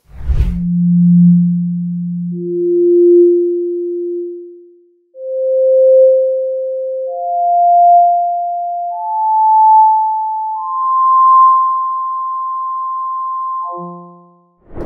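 Pure sine tones step upward through the harmonic series, each steady tone sounding alone and rising higher in pitch over about six steps, ending with a brief stacked cluster of the tones together.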